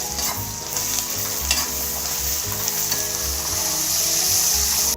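Onion and thecha chili paste fry in a pan with a steady, close sizzle. Stirring knocks sound against the pan throughout, and nobody speaks.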